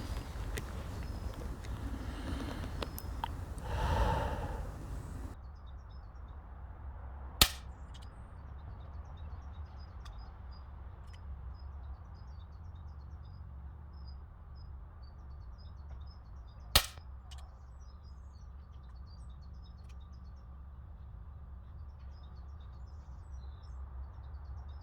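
Two sharp gunshot reports ring out at a shooting competition, well spaced and moderately loud over quiet outdoor ambience. Faint birdsong sounds between them.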